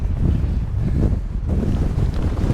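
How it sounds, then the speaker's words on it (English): Strong gusting wind batters the microphone on the exposed summit of Lord's Seat, a loud, continuous low roar and buffeting with no voices. "So here we are at the summit of Lord's Seat. Very, very windy."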